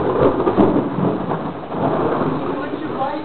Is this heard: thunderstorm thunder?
yes